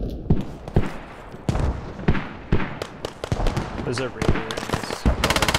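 Gunfire in the military shooter Squad, including a PPSh submachine gun firing close by. Sharp, loud shots come in irregular single cracks and short bursts, joined by other distant shots, with a brief voice in the mix.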